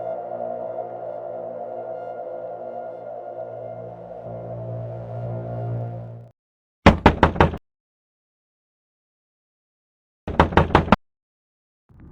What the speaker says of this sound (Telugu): డోర్ కొడుతున్నా తీస్తలేడు.